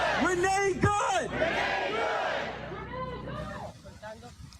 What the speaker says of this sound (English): massive crowds flooding the street in the aftermath of that shooting